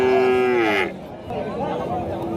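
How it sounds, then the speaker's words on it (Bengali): A crossbred cow at a bustling cattle market gives one loud, close, drawn-out moo, then the murmur of the market crowd carries on. "এটা একটা ক্রস জাতের গরু"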